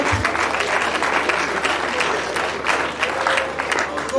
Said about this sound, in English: Nobody's clapping. I think we should clap.